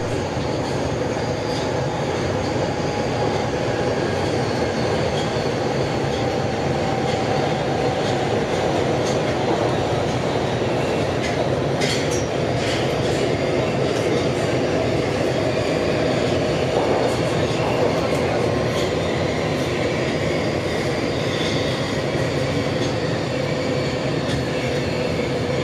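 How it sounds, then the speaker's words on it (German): Steady ride aboard an automated, driverless Budapest Metro Line 4 train, heard from the front car: a continuous low rumble and wheel noise with occasional rail clicks and faint squeals, loud and unbroken throughout. "Da die Metrolinie 4 mit automatisch fahrenden Fahrzeugen fährt, können wir sogar uns es im vorderen Teil des Zuges bequem machen und eine kleine Mitfahrt genießen."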